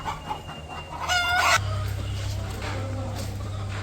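Chickens in a village yard cluck and a rooster crows loudly partway through, close by, over a steady low hum, with no talk.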